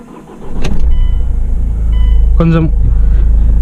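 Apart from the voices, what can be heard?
Mahindra XUV500 W8 engine starting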